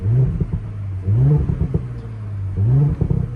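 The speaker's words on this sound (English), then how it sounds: "Get some nice pops from the exhaust." A 2018 Audi B9 S5 in dynamic drive mode revs repeatedly, each low exhaust swell rising and falling with burbling crackles between, close and loud with no talk.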